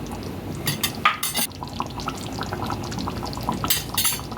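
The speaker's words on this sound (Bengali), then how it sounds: "দিয়ে আমরা ভালোভাবে আরও 5 মিনিট আমরা কষে নেব।" Mutton stir-fried in a pot with a spice paste, a spoon scraping and clanking against the pot over a steady wet sizzle, close and fairly loud, with no voices.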